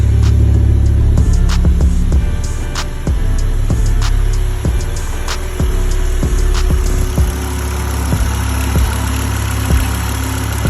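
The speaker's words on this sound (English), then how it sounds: "Exhaust leak there, but I'll fix it." BMW E60 M5 engine running with an exhaust leak, a dense, steady rumble with rapid ticking pulses punched through it, close and continuous for about ten seconds with no talking.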